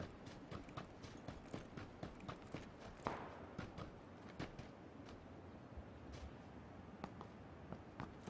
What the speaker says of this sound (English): I can hear footsteps around me now as well.